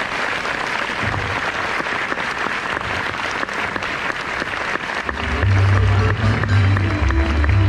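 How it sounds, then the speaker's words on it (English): Audience applause after a Destination D23 panel on the dawn of Disney World, a dense steady clatter of many hands filling the room, swelling louder toward the end with low rumbling underneath. "Everyone, please give a big round of applause again to George,"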